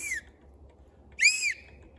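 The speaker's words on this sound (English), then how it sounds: "Wow. whistle. That is cool." A small survival whistle built into a cap gives two shrill, piercing blasts close up, a very brief first toot and then a longer one, with quiet between them.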